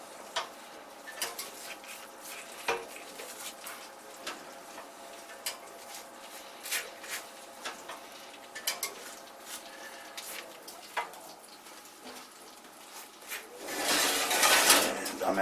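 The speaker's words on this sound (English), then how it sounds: "I'm actually going to turn the pan around." A metal turkey roasting pan being handled and turned around, scattered clanks and scrapes at irregular intervals, fairly close, followed by a louder rushing hiss at the end.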